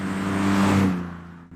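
Engine of a 1990 Ford Sierra 4x4 (Merkur XR4ti) holding about 2000 rpm while driving, a steady smooth low hum with a faint rising swell, heard from inside with no talk.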